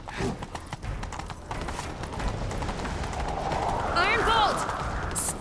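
Horses gallop in The Witcher 3 with rapid, rhythmic hoofbeats that continue throughout, while a horse whinnies near the end and voices speak over the chase.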